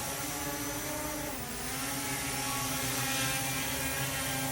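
Propellers of a Dynalog DG600C drone spin indoors, producing a loud, unbroken whirring drone with a steady pitch for the whole stretch.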